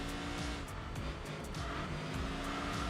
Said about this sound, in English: We're driving the GC8 Impreza. This thing, oh, you can already hear the Boxer engine on it.